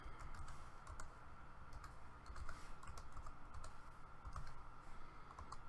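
Rapid typing on a computer keyboard while entering an IP address, with steady light clicking keystrokes, close and quiet, continuing without pause under low room hum.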